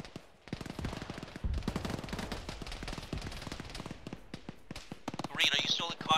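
Rapid bursts of gunfire in the ShackTac Arma military game, sharp repeated shots crackling in clusters near and far throughout, with radio-style voices talking over the shooting.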